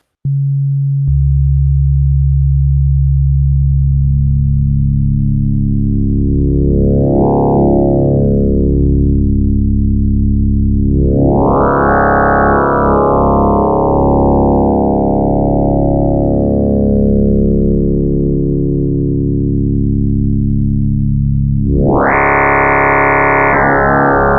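A loud synthesizer tone drones with rich harmonics, sweeping up and down in pitch and brightness in slow waves before jumping to a bright, buzzy sound.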